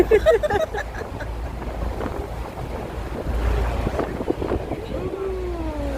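Steady wind rumbles and buffets the microphone throughout, with people talking over it and water noise in the background, on a trip from Tsim Sha Tsui to Central, Hong Kong.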